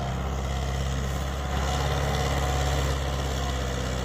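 A tractor engine runs steadily with a deep, continuous low rumble, close and loud, during a harrow field demonstration comparing Swaraj 855 and Sonalika tractors; the tone holds constant throughout with no talk.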